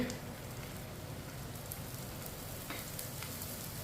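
Aloo paratha cooks in a spoonful of oil on a pan, giving a faint, even hiss of gentle frying that runs steadily without pause.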